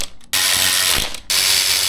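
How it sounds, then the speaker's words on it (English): Extra flat Harbor Freight ratchet clicking steadily at close range, a dense run of fast pawl clicks with a brief pause partway through, no voices. "So my special extra flat harbor freight ratchet did the job. Click, click."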